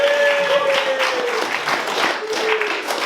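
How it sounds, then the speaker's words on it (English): An audience at a punk poetry event applauds steadily, a dense wash of many hands clapping with some voices mixed in, loud and sustained throughout. "Can we have a round of applause for Molly for saving the day?"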